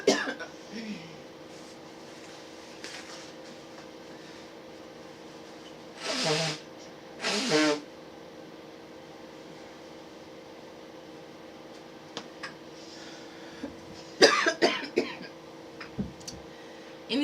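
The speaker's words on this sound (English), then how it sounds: "I gotta blow my nose" Mostly quiet room noise, broken by two short bursts of nose blowing and later a few quick coughs or snorts, close by.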